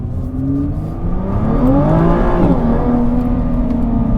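A Nissan GT-R 50th Anniversary Edition accelerating hard without launch control, its engine note climbing steadily, dipping briefly at a gear change, then pulling again, loud and close from inside.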